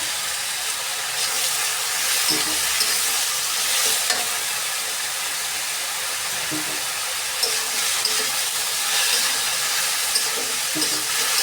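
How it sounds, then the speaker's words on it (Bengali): Ridge gourd frying in a pan with onion paste and green chilies, a loud continuous sizzle broken by repeated scraping stirs of the spatula, close up and without speech. "পেঁয়াজ বাটাটা একবারে ঝিঙের সাথে সুন্দর করে ভেজে নিব আমি"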